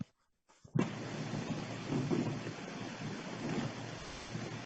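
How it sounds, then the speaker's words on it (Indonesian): After a short moment of near silence, a shower turns on and runs, giving a steady, close, hissing spray of water that continues unbroken. "Suara shower."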